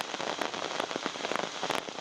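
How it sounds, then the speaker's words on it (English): Heavy rain pours down outdoors in a dense, continuous hiss of drops with scattered sharper pattering hits, fairly soft overall and with no talking. "Now it's raining so hard."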